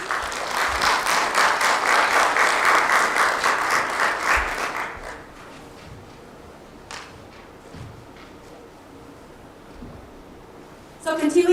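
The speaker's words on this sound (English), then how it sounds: "Please give them a big welcome and round of applause, please." A seated audience at a community panel on domestic violence gives the panelists a round of applause, a dense roar of clapping for about five seconds that fades to scattered claps and room quiet, ending with a voice.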